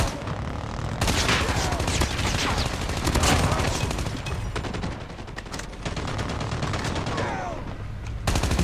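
Rapid automatic gunfire in a Call of Duty Mobile match, with dense overlapping bursts and shots close and loud over constant battle noise, plus a few brief gaps.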